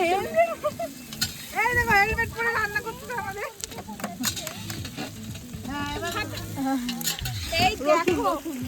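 Food frying in oil over an outdoor cooking fire at a picnic, a steady sizzle with stirring, heard under near-constant chatter and several voices talking close by.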